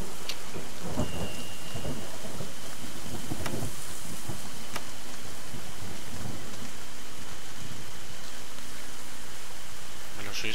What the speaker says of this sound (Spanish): ¿Por qué llueve dentro de la choza?